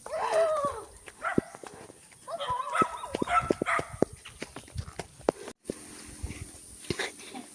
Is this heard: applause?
no